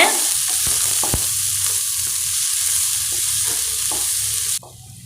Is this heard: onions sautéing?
yes